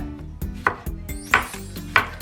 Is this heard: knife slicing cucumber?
yes